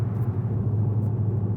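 A 4-litre V8 estate car engine in Sport Plus mode gives a steady, deep low rumble throughout, close and fairly loud, with no talking over it.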